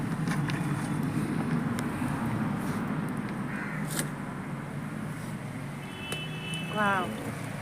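Rice-flour dough fritters frying in very hot oil, a constant dense sizzle and crackle filling the whole stretch with small knocks and clinks on top.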